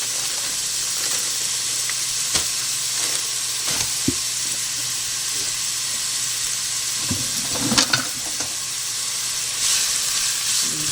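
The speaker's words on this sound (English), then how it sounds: "And get these sauteed up." Two shredded carrots sautéing in avocado oil, giving a steady, even sizzle and hiss close up with a few scattered scrapes and taps from stirring, no voices.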